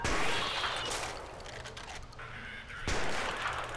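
Rapid gunfire in the video game Deadly Escape, a prison-escape game, crackling in dense bursts with short pauses, fairly loud throughout.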